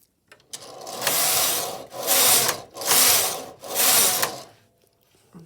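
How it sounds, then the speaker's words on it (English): Finished knitting being pulled off a flatbed knitting machine: four loud, rasping sweeps of carriage and needles, each about a second long, with short pauses between them, close and with no voices. "So let's take this off the machine."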